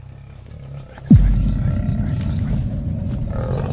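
An aggressive wild lion in Kruger National Park lets out a sudden loud roar that erupts abruptly and carries into a sustained, rumbling growl, close and powerful over outdoor background noise.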